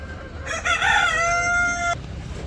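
A native village rooster lets out a single loud crow close by. The call lasts about a second and a half against faint background noise.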